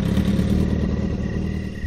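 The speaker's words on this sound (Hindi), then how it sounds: "भूदेव ने अपनी मोटरसाइकिल संभाली।" Motorcycle engine running steadily at close range, a dense rumbling drone with rattly clatter and no clear revving, lasting under two seconds with no speech.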